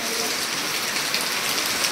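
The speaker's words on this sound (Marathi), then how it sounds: "उजेड झाला आहे तरी अजून तेवढाच जोरदार पाऊस चालू आहे" Heavy monsoon rain pours steadily at dawn on Narmada Parikrama pilgrims sheltering through the night, a dense, unbroken hiss of drops hitting surfaces close by, with no talking.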